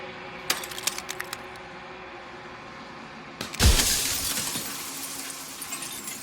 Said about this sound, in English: Jagged shards of broken glass.